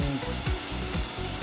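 A saw cuts through wood while an office chair is repaired, giving close, rhythmic rasping strokes about every half second.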